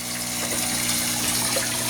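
A submersible pump circulates water through a koi pond filter, producing a steady, close trickling and gushing wash with a low mechanical hum underneath, continuous and unbroken throughout.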